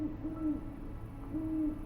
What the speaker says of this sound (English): Perched on a low branch, just at the edge of the grove, is an owl.